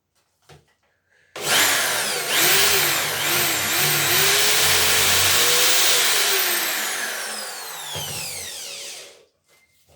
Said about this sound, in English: Put your drill down, probably best on the floor.